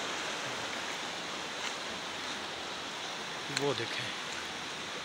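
Water flows steadily downstream at Shahdara Point in Islamabad, a constant broadband rush filling the whole clip, with a brief spoken voice near the end.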